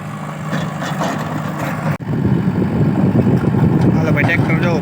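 A tractor engine running on a village track, a loud, steady low rumble close by, with a brief dropout before it grows fuller and people speaking over it.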